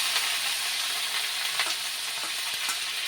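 Ingredients and peanuts fry in a pan for dill rice, a steady, close sizzle with faint crackles and occasional stirring scrapes throughout, no voices.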